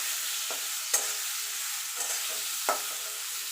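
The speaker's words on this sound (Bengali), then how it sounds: "এবার এটা একটু ভাজা ভাজা করে নেব।" Ground turmeric frying in oil in a pan for a mango sour dal, a steady low sizzle with a few sharp stirring clinks and scrapes spaced through it, no talking.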